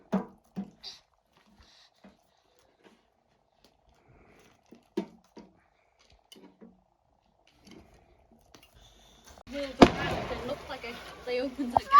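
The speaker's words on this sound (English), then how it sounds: "I like the fireworks they do." Fireworks on fireworks night: after quiet stretches with scattered voices and small knocks, a sudden sharp burst breaks out near the end, followed by a rumbling crackle and further pops.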